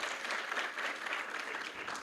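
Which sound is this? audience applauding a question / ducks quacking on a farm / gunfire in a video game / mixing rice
audience applauding a question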